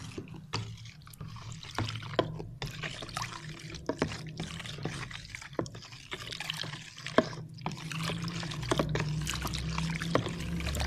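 Sulfuric acid is stirred into a cold liquid dish wash mixture, giving soft, faint sloshing and dripping liquid sounds with small irregular clicks, steady throughout at close range.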